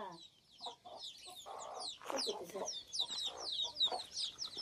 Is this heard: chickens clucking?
yes